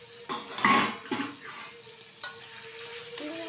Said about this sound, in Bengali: চিংড়ি মাছটাও কিন্তু হালকাভাবে ভেজে নেব